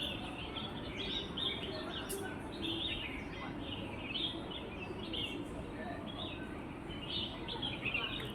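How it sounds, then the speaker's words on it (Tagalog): Birds chirp and sing in repeated short calls outside Shatin Town Hall in Hong Kong, moderately faint over steady urban background noise. "naririnig nyo ba yung boses ng mga ibon? Mga ibon na umaawit."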